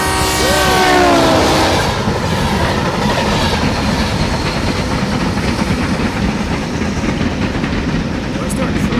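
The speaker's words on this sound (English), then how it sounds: "Why is there a train on the road?" A simulated train rumbles past at close range, loud and steady, in a video game driving simulator where a train runs along a road. A horn-like tone sounds at the start over continuous rolling clatter.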